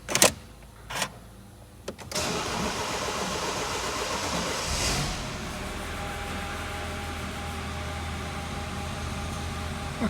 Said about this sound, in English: let's start the car, let's see what happens